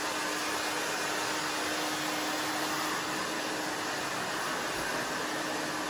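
A hair dryer blows on freshly cut short pixie hair, producing a steady, even whooshing roar held at a constant level, heard alone and somewhat distant.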